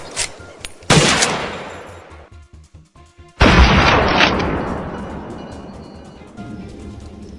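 Shots fired during a wild boar hunt in snowy forest: two loud, sharp gun blasts, each followed by a long rolling echo that slowly fades, heard at close range with no talking.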